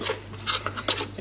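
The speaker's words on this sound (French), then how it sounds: "Je vais venir mélanger." A spoon scrapes and clinks against a bowl while stirring a yeast mixture, quick light taps and rubs over a steady low hum.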